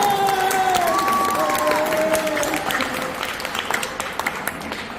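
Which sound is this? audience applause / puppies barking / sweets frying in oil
audience applause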